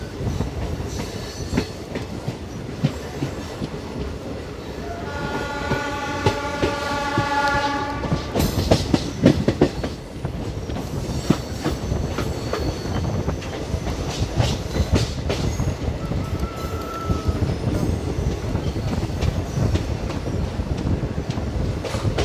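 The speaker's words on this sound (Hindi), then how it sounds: "कपूरथला स्टेशन से डिपार्चर लेती हुई।" A 04633 DEMU train pulls out of Kapurthala station on a curve, with a loud sustained horn blast and a steady rumble of wheels clattering over the rails, heard from on board, with no talking.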